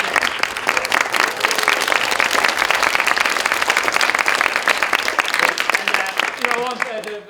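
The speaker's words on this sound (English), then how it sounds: "Another big round of applause" Loud, dense audience applause at a pantomime performance, many hands clapping continuously in a theatre, with voices mixed in and a speaker's voice emerging as the clapping thins near the end.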